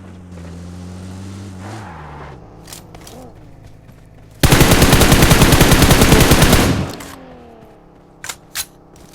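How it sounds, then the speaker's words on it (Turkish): Automatic gunfire erupts in the mobile game PUBG Mobile as a dense, loud burst of rapid shots lasting about two seconds, with a vehicle engine humming before it and a couple of single shots afterward. "Ateş edeceğim dönsün."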